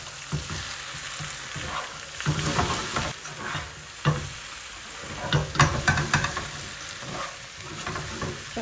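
Masala aloo, potatoes cooking with spices in a pan: a steady sizzle and frying hiss with repeated scraping stirs of a spoon against the pan, close and moderately loud.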